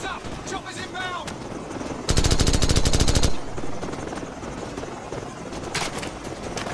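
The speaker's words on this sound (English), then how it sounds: "Heads up! Choppers inbound!" Helicopters and machine gun fire in the Call of Duty 4: Modern Warfare video game, a loud sustained burst of rapid automatic fire lasting about a second over constant rotor drone, with battle noise around it.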